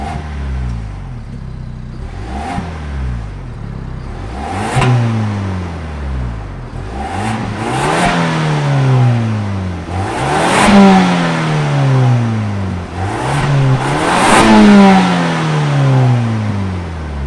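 A Ford 2.3-liter EcoBoost engine in a modified 2022 Bronco Big Bend revs repeatedly, rising in pitch then falling back, several blips in a row, loud and close with no talking.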